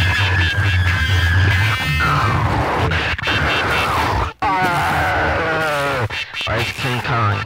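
A voice imitates the Rodan monster's cry with a loud, wavering, screeching wail. Dense rock music with droning guitar plays underneath.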